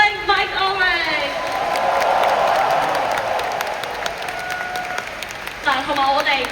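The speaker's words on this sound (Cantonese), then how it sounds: "咁所以麻煩大家再俾多一次掌聲" Live concert audience applauding and cheering at a 2025 show, a broad sustained wash of clapping from a crowd that swells in the middle, with a singer talking over the start and end.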